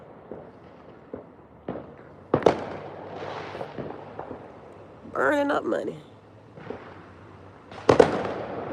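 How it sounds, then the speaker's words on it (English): Holiday fireworks pop and bang repeatedly on Christmas Eve, with several sharp reports near and far spread irregularly across the scene while people talk over them. "I think they're done popping the fireworks, but I hear them all over."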